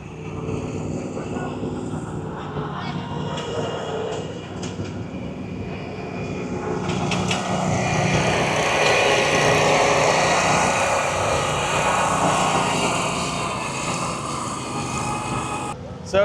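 A Dixie Chopper mower drives at speed at an equipment expo, a continuous high-pitched engine whine that grows louder and nearer mid-clip and then eases, with people talking over it.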